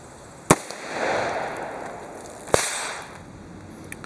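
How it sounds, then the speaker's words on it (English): Two sharp, loud .357 Magnum gunshots from Hornady Critical Defense rounds, fired into clear ballistics gel at an outdoor range, are spaced about two seconds apart, each followed by a short echoing tail. "let's get this out to the range, shoot it through some ballistics gel, and see how it performs."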